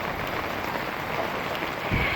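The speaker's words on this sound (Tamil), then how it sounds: "எவ்வளோ மழை பாருங்க." Heavy rain falls in a steady, dense hiss with a thicker patter of drops near the end, continuous and fairly close.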